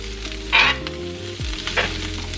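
Veggies and meat are stirred in a hot pan for a cheesesteak filling, a close, lively sizzle with scraping bursts of the spoon as the mix is turned, no voices.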